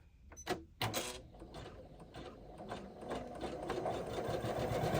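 An embroidery machine stitches a zipper bag, its steady rapid needle chatter building and running continuously after a couple of sharp clicks at the start, close and fairly loud with no talking.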